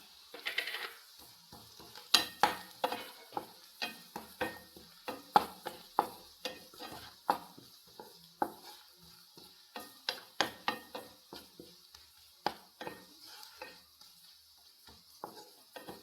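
Onions with chilli and turmeric powder frying in a pan, stirred in repeated sharp scrapes and taps over a soft sizzle, with no talking.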